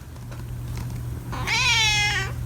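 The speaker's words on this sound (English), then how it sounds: "today, we're going to have a special guest star, my cat, Zonut." A pet cat named Zonut gives a single drawn-out meow, loud and close, after a moment of quiet room hum.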